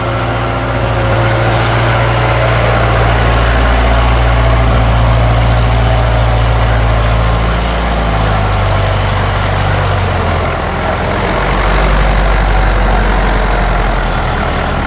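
A Standard tractor's heavy diesel engine runs steadily and loudly up close with a deep, rumbling idle throughout.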